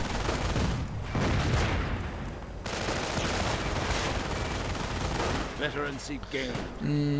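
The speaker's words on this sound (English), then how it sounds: "MG mounted now on the Geschützwagen, quite useful against infantry" Bursts of light machine gun fire from a Geschützwagen in the Company of Heroes strategy game, sounding amid dense battle noise of other gunfire and booms, with a commentator's voice coming in near the end.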